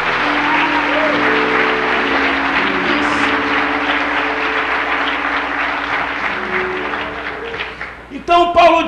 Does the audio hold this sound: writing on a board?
no